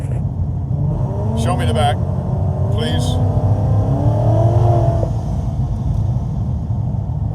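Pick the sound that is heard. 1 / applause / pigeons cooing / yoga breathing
1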